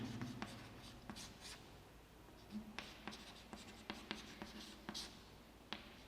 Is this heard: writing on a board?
yes